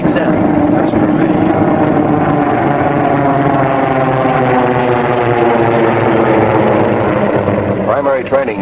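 F6F Hellcat fighter aircraft engines drone in a loud, steady, rumbling roar that holds throughout, with faint speech underneath.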